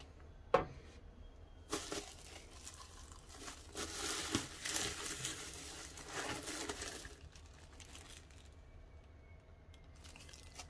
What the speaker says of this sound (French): Papier bulle bien emballé.